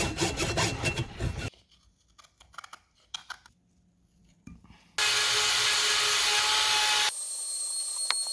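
A hand saw cuts off the excess ends of a carbon fiber part, with close, harsh rasping strokes at the start, then quieter scraping and handling before loud, steady continuous sawing toward the end.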